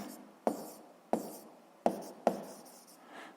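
Pen writing an answer to a physics problem by hand on paper, heard as four sharp taps, each trailed by brief scratchy strokes, close and quiet, with no talk.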